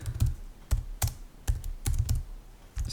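Someone types code on a computer keyboard in quick irregular bursts of sharp key clicks and thumps, close up and moderately loud, with short pauses between strokes and no speech.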